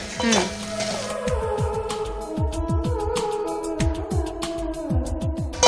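Onions fry with turmeric in a pan, a soft sizzle under repeated quick scraping and clinking of a spoon against the pan in a busy rhythm.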